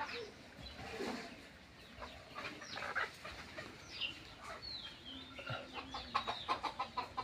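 A desi hen sitting on her eggs clucks in soft, repeated bursts, with other chickens calling nearby and the sounds growing more frequent toward the end.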